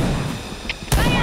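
A green balloon bursts in a shooter video game with one sharp, loud pop near the end, following a stretch of quieter game sounds and faint voices.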